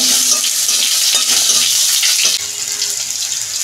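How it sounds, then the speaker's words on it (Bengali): Vegetables and fish curry with tomato are stirred in a frying pan, giving a loud, wet, bubbling sizzle with scraping strokes that eases slightly partway through. "আমি একটু নাড়াচাড়া করে নেব"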